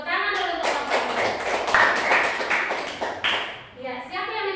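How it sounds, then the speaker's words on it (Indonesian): A classroom of students claps for a group after its presentation. The clapping is dense and continuous, mixed with voices throughout. "tepuk tangan dulu untuk kelompok"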